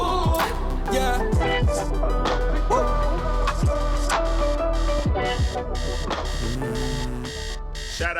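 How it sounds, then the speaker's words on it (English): An alarm clock rings in the life-simulation game inZOI, a bright electronic chiming alarm repeating over several seconds with sweeping tones and no speech. "Shout out to the most annoying alarm clock."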